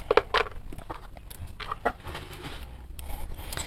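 Chickens on a small hillside farm where goats and cats are also kept, giving a few short clucks and calls at a middle distance, with quieter bird sounds spread across a faint outdoor background.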